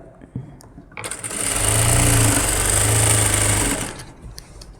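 A sewing machine stitches an umbrella gown, its motor whirring up into a steady, close mechanical run for a few seconds before winding down, with quiet handling noises on either side.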